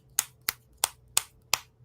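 Five crisp, evenly spaced finger snaps in quick succession, close and clear against near silence, with no talking.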